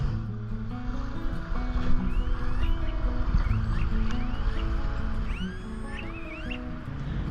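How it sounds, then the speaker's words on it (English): Birds call with chirping, sliding whistles over a steady low engine drone, moderately distant, at an inlet behind a Florida Keys island. "I don't know what kind of birds these were, but I liked the sound."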